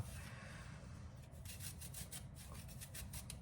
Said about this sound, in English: I'm gonna just grate a little bit of fresh garlic in there because I like it